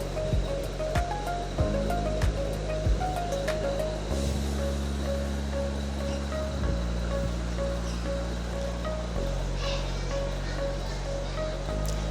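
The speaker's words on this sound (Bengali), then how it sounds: "শাপলাটি আমরা ভেজে নেব যতক্ষণ অবধি শাপলার গায়ে থাকা জলটি শুকিয়ে আসা অবধি" Salted water lily (shapla) stems fry in a pan, giving a steady, dense sizzling hiss at close range with faint stirring clinks and a low background hum.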